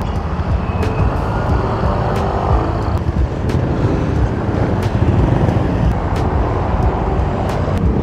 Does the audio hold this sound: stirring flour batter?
no